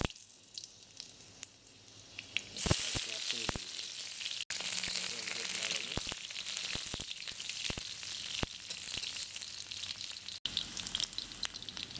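Panch phoron spices and dried chillies sizzle steadily in hot oil, a loud close frying hiss that surges a few seconds in and then crackles on continuously, being prepared for leheti haak.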